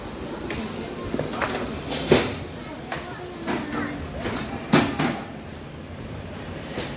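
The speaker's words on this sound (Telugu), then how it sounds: "పాలకొల్లు నుంచి మన ట్రైన్ అయితే స్టార్ట్ అయిపోయింది" The Amaravathi Express on its inaugural Narasapur–Hubli run pulls out of Palakollu station, with a low steady rumble, clanking jolts and creaks from the carriage as it starts moving.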